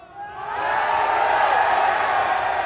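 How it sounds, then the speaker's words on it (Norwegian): A theater audience at a hypnotist's stage show screams and cheers loudly, a dense sustained roar of many voices that swells after a brief quieter start and holds steady throughout. "Mine damer og herrer, skrik så høyt dere kan for Henry Leander Andersen!"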